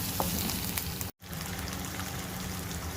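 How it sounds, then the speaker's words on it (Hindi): Gurday kapooray (goat kidneys and testicles) frying in a pan for taka tak, a steady close crackling sizzle that drops out briefly midway before resuming at the same level. "इसको 2 से 3 मिनट तक भूनते हैं।"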